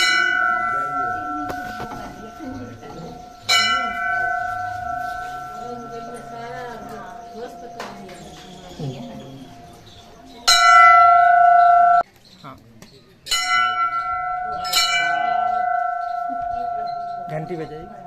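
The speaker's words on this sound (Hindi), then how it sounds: "घंटी बजाई।" A metal temple bell at Gauri Somnath temple in Omkareshwar rings loudly and close in several separate strikes, each leaving a long, bright, sustained ring, with people talking between the strikes.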